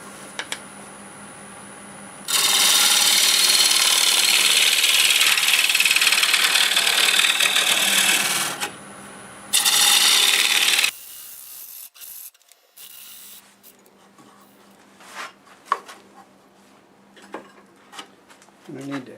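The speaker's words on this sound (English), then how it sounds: "I'm going to start with my 1/2 inch swept back bowl gouge" Half-inch swept-back bowl gouge hollowing a fresh-cut English walnut bowl on a lathe, a loud hissing cut running for several seconds, stopping, then a second short burst, followed by quieter motor hum with scattered knocks.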